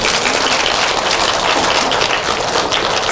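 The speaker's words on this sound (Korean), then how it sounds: "좋으신 하나님께 우리 박수로 영광 한번 드립니다." A Korean church congregation gives God a round of applause, dense loud clapping that continues unbroken from start to finish, close and filling the room.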